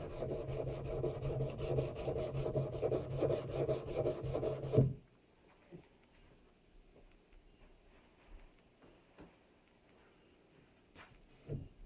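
Sandpaper scrubbing surface rust off an old Spanish black powder pistol: quick, even back-and-forth rasping strokes close up for about five seconds, then near quiet with faint scattered scrapes.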